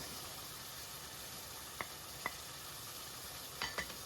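Tomatoes in a hot pan give a faint, steady low sizzle with a few light utensil clicks, quiet and close, no voices.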